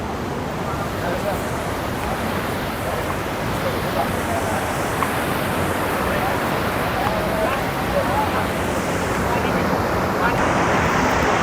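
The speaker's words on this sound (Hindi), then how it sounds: "देखिए नीचे कितना खूबसूरत पानी बह रहा है" River water rushes far below a mountain trek path to Kedarnath, a broad continuous roar with wind noise, steady and loud, while voices talk over it.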